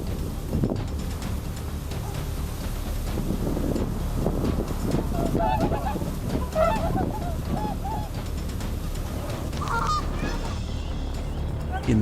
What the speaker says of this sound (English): a male swan suddenly charged at a group of Canada goose goslings and even grabbed one in its beak, sending everyone into panicked screams